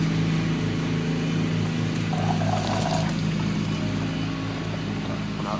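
Coolant drains steadily from a 50cc engine in a continuous, even hiss of liquid that runs at a constant level over a low, steady hum.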